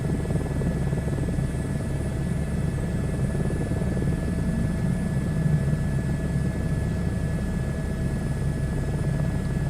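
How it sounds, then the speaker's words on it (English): A helicopter turbine in a VR flight simulator game gives a constant whirring drone with a steady hum and thin high tones, even and unbroken throughout, with no talk. "Look how fast that turbine's spinning too."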